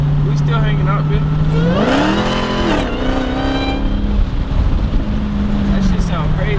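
Loud engine whine rising in pitch as a Dodge Hellcat accelerates, easing off and then climbing again, with a voice speaking over it.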